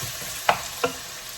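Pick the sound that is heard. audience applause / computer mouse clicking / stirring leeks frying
stirring leeks frying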